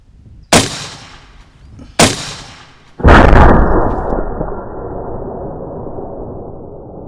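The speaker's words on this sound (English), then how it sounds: "So let's get to shooting." A 300 Blackout rifle fired into ballistic gelatin outdoors, three loud sharp shots spaced about 1.5 seconds apart, the last ringing into a long rolling echo, no talk.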